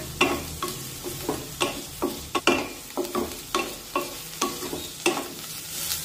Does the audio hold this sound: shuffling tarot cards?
no